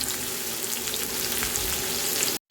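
Eggplant fries in a pan with a loud, dense, continuous sizzle close by, with faint stirring underneath, ending abruptly in a short silence.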